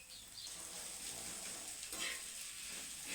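Curry leaves sizzle quietly as they fry in hot oil in a home kitchen, giving a soft, steady crackling hiss with slight surges as they are stirred.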